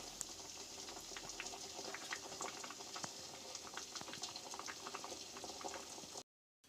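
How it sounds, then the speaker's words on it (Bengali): Potato curry (alur dom) simmering on a gas stove at low heat, a soft, steady bubbling and popping that carries on evenly throughout, faint and close, with no talking. "এবার গ্যাস সিমে করে দিয়ে আরও 5 মিনিট অল্প আঁচে ফুটিয়ে নিন"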